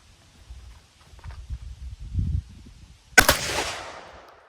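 A 12 gauge shotgun with a drum magazine, fired from an M60 gooseneck mount: low handling thumps and rattles, then one sharp, loud, close blast with a ringing echo that fades out.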